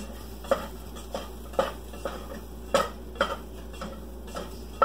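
Leftover turkey pieces are tossed with spices in a pan, giving a string of distinct metallic scrapes and clinks at an uneven rhythm over a quiet background.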